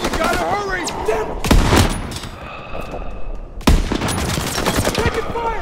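Bursts of rapid gunfire and sharp shots crack out in a World War II battle scene from the video game Call of Duty WW2, loud and close, with two heavy blasts and shouted voices mixed in.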